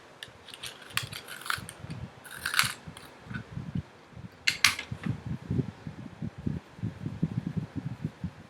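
A colored pencil, a turquoise-blue shade, being sharpened by hand: close, quiet grinding with a rapid gritty rhythm, broken by a few sharper clicks and handling noises early on, no voices.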